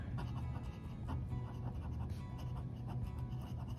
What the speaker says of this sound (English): You can hear the pen on the paper